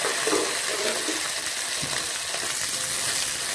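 Small onions sauté in a pan for a bottle gourd chutney, giving a continuous close sizzle with a few soft stirring scrapes early on and no voices.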